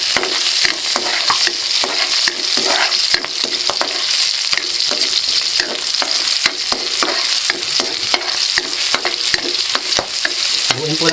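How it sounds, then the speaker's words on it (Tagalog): Red onions and siling labuyo chili frying in a hot pan while being stirred, with a loud, steady sizzle and repeated close spatula scrapes clicking rhythmically throughout. "Haluin po natin ito hanggang sa maamoy po natin ang bango ng sibuyas"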